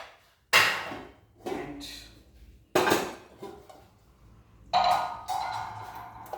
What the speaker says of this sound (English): So now I'll keep the kadai on the gas